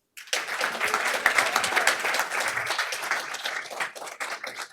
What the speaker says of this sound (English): Let's give a round of applause to Matteo Spinosa.